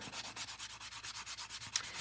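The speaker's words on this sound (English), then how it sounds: "So I'm just buffing that out." Hammered wire on a crystal pendant being buffed, a soft repetitive rubbing stroke in a steady rhythm, close and quiet, with one brief sharp tick near the end.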